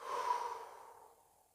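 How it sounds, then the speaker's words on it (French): A single soft exhale through the mouth during a breathing exercise, a gentle airy breath that starts moderately and fades away over about a second and a half, alone and close. "Souffler sur 3 temps par la bouche."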